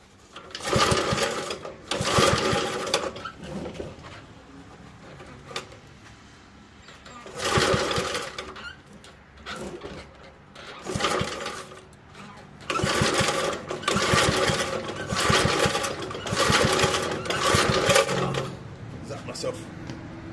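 A small Scott Bonnar edger engine sputters to life after pull starts, running in uneven bursts that surge, cut out and restart several times, with someone talking in the gaps.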